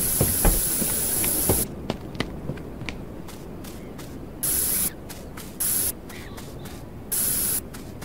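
Spray can in the video game Fears to Fathom: Ironbark Lookout hisses loudly in several bursts, a few long sprays with short gaps between, alongside clicks and scattered clatter.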